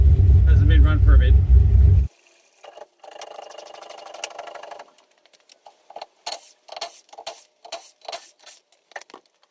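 A Nissan S14 drift car that has sat unused cranks after loud nearby speech, the starter whirring in a sustained run, then catching into uneven bursts of engine revs that rise and drop repeatedly.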